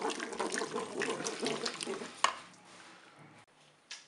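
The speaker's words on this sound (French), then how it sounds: "Je mélange." A tartiflette mixture stirred in a Cookeo electric pressure cooker, wet sloshing and scraping for a couple of seconds, then a sharp knock followed by quieter settling.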